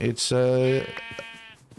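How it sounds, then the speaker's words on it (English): Sheep bleating in the Minecraft video game: one loud, steady, nasal bleat up close, followed by quieter game sounds. "You don't have to kill the sheep."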